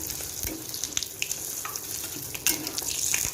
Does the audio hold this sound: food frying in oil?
yes